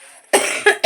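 Three close, harsh coughs in quick succession, the first longest and the last two shorter.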